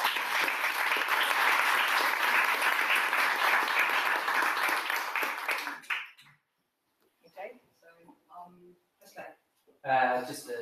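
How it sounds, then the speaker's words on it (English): Audience applause for a speaker at a UX design talk, a dense steady wash of clapping for about six seconds that stops abruptly, followed by brief faint sounds and a voice beginning to speak. "Please give a round of applause."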